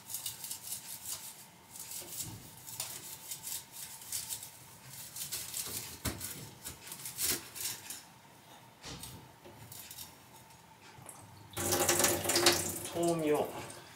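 Tap water runs into a kitchen sink while vegetables are rinsed, a steady splashing patter with brief breaks, then a louder gush near the end, with some quiet talking in the background.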